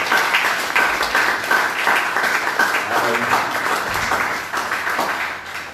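A church congregation at a Sunday worship service applauding steadily, loud and close, with voices mixed into the clapping.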